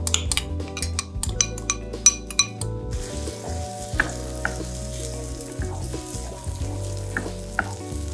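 Blended spice paste sizzles loudly in hot ghee in a pan, a steady frying hiss with clinks of a utensil stirring against the pot early on, then continuous bubbling and crackling.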